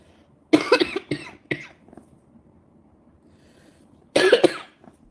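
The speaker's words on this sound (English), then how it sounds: "that cough does not sound good at all" Several harsh, congested coughs from a person with pre-existing breathing problems, a burst of three or four close together, then a short pause and another pair near the end, loud and close with nothing else around them.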